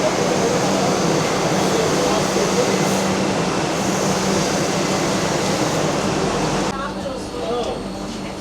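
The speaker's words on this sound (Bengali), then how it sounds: "আর এই হচ্ছে ভুবনেশ্বর স্টেশন" A Vande Bharat express at Bhubaneswar railway station, heard from the platform: a loud, steady rumble of train and station noise fills the whole stretch, dropping a little near the end, with voices mixed in.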